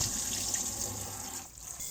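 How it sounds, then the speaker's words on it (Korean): Tteokguk rice cakes that were soaked in beer get rinsed under a running kitchen tap, a close, steady rush of water with a brief dip in flow near the end and no talking. "요리를 하기 전에 맥주에 담가둔 떡국떡을 한번 헹궈줍니다."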